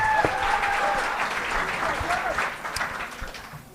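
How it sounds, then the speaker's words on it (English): A live comedy crowd applauds a comedian in a club, with continuous clapping and cheering that tapers slightly toward the end and voices mixed in. "Come on, one more time for John. You clap."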